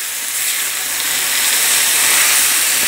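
Riced cauliflower and chicken sizzling in a hot pan for keto soft tacos, a steady, loud frying hiss that fills the whole moment with no talking.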